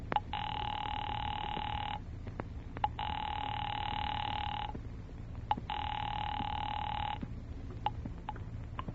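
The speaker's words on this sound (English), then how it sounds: "Ringing Murray Hill" An old-fashioned landline telephone bell rings in three long, steady bursts separated by short pauses, loud and close over a low background hum, with no talking.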